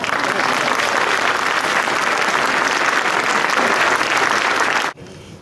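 A hall audience at a mayor's New Year address applauds the town's technical services team, loud dense clapping that holds steady for about five seconds, then stops abruptly.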